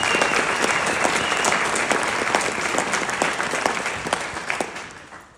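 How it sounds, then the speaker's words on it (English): A hall audience at a hall of fame induction gives a loud, sustained round of applause, dense clapping that holds steady and then tapers off near the end. "So give them a round of applause, please"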